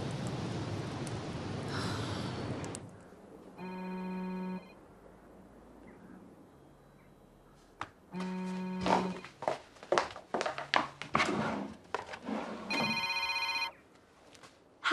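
A telephone bell rings in repeated bursts, each ring a short harmonic trill separated by pauses, with soft movement and footsteps between rings and no one answering.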